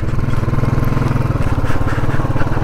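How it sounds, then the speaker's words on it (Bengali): A motorcycle engine runs steadily on the ride toward the Muktinath temple on the Marpha to Muktinath route in Mustang, Nepal, a close, loud, rhythmic mid-pitched putter without pause or speech. "তো আমরা বাইক নিয়ে যাচ্ছি।"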